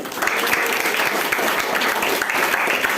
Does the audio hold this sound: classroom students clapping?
yes